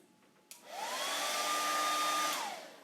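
A hair dryer clicks on, spins up to a steady blowing roar with a rising whine, runs for under two seconds, then winds down as it is switched off. Nearby and alone, with no talking.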